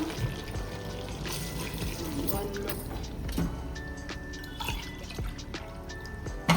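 Water splashes and trickles steadily into a metal pot of mutton curry, with scattered drips and light clinks against the metal.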